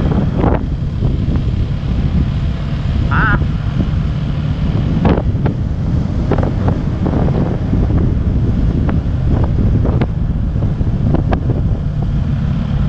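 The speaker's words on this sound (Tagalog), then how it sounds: "kaso malakas masyado yung hangin" Strong seaside wind roars and buffets the microphone without a break, with crashing surf underneath and no voices.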